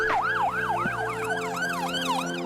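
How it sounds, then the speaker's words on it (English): An emergency vehicle siren wails in a steady, repeating rising-and-falling pattern with a fast rhythm, loud and close, over a constant engine drone. "an emergency vehicle will probably switch off its siren as it follows you"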